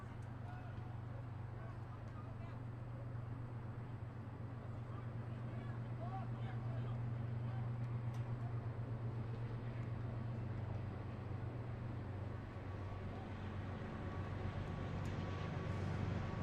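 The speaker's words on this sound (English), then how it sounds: "Sorry about that train noise right there." A passing train rumbles as a steady low drone beside a boys' varsity high school soccer game, lasting throughout under distant crowd and field noise with faint talk.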